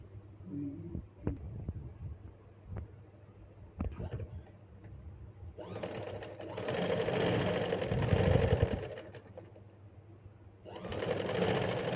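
A domestic sewing machine stitches a garment seam, its fast mechanical whir starting after a few light clicks and handling taps, running steadily and close with a brief pause before resuming.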